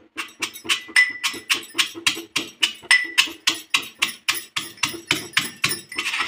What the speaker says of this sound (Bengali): এই যে গোন্দগুলো ভেজে নিয়েছিলাম, এইগুলো এখন গুঁড়ো করব।